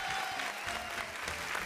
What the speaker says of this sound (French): Est-ce qu'on peut applaudir pour Maman Nao, s'il vous plaît?